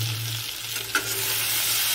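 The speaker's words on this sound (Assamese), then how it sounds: "আৰু এয়া কুন্দুলি ভাজি আছোঁ।" Sliced ivy gourd (kundruli) fries in a pan with a steady, close sizzle, stirred continuously, with one sharp utensil clink midway and no talking.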